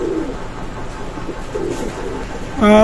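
Pakistani Teddy pigeons coo softly in low, rounded bursts against a steady background hum, followed by a brighter, louder call at the very end.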